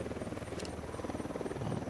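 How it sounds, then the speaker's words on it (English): A video game helicopter's rotor chops in a fast, steady pulse in Ghost Recon Wildlands, moderately distant and continuous throughout, with no talking. "Have a helicopter here also."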